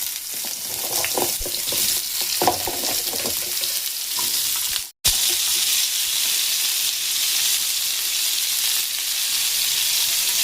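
Small chopped pumpkin pieces fry with cumin seeds in hot oil, a loud, continuous close sizzle with a few stirring clicks early on and a brief gap midway before the hiss resumes.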